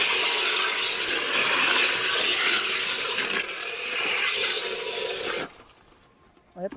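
A brush cutter spins at high speed against tough grass below a steep paddy-field bank, a loud steady whining roar with rough cutting texture for about five seconds before it suddenly drops away to near quiet.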